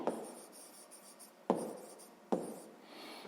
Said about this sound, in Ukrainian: Давайте це запишемо.